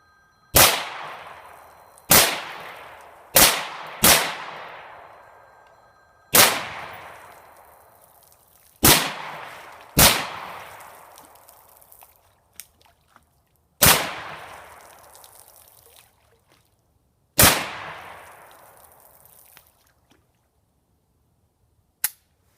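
A .22 Magnum (WMR) Volquartsen rifle fires CCI 40 grain total metal jacket rounds from an aftermarket high-capacity magazine, giving nine sharp, loud shots with ringing tails at uneven spacing, no talk.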